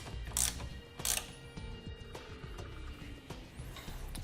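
A ratchet tightens a 14 millimeter barbed fitting into the inlet of an air compressor on a 2014 Chevrolet Silverado 2500, giving quiet, close, rapid clicking with a couple of louder metallic knocks.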